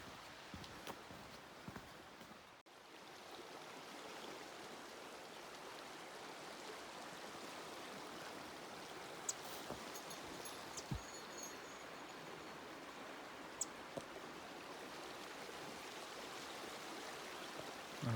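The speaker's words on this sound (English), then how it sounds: "That's the Spray River." Spray River rushing along a backcountry trail in the Canadian Rockies, a steady broadband roar of flowing water that holds evenly throughout, with a few faint footsteps or clicks near the start.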